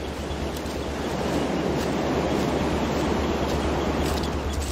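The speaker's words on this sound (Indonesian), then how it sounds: "suara ombak yang deras itu pecah tak seirama" Waves break and churn in a constant, heavy roar close by, with gusty wind mixed in and nobody speaking.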